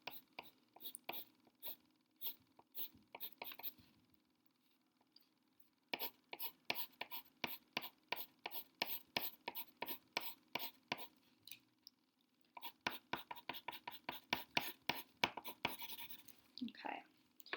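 Pencil shading back and forth across a small box on paper, a dense run of quick, rhythmic scratchy strokes, close and fairly loud, with short pauses between bursts and no talking.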